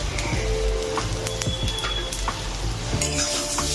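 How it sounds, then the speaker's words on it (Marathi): Coconut, onion, garlic and ginger masala being sautéed in a pan for a spicy country-chicken curry, a steady loud sizzle with spoon scrapes and taps stirring throughout, close and continuous. "आणि हे परत एकदा चांगलं असं परतून घ्यायचं आहे सगळं मिक्स।"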